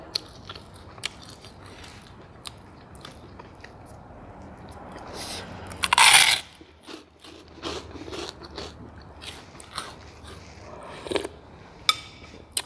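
Crunching on crispy home-fried pork rind eaten alongside small-noodle pork noodle soup: scattered crisp bites and chewing crackles, with one loud close crunch standing out, no talking.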